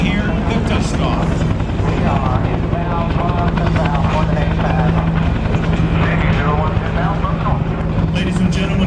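A military helicopter flies a dust-off medevac demonstration at a Tinker Air Force Base air show, its loud rotor thump and turbine roar continuous and near while an announcer talks over it.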